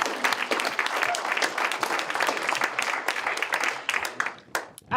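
An audience at a public meeting in Beiseker, Alberta gives a round of applause, a dense burst of close clapping that thins and tapers off near the end.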